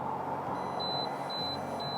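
Short electronic beeps from a boat's GPS anchor alarm repeat three times at a steady interval, high and thin over a constant low hum of onboard ambient noise.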